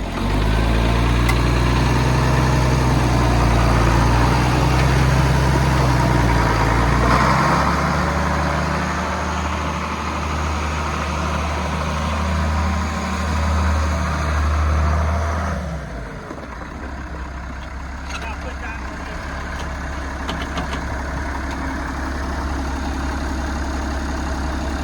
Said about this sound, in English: That's the main generator.